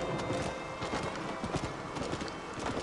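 Donkey hooves clip-clopping at a steady trot in the Red Dead Redemption video game, a continuous rhythmic patter over a dense game background.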